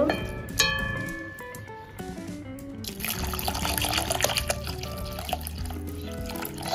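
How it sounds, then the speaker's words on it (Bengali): Water pours into a pot of lentils set for boiling, a splashing, trickling stream that starts thin and grows fuller and more continuous partway through, heard close with no talking. "সিদ্ধ হওয়ার মতো পানি দিয়ে দেব আমি।"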